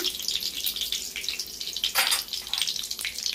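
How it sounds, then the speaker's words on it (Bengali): Bay leaf and dried red chilli spluttering in hot mustard oil: a dense, steady hiss of frying with crackles and a brief louder burst midway, close and without speech. "আমি তেজপাতা, শুকনো লঙ্কা ফোড়ন দিয়ে দিচ্ছি"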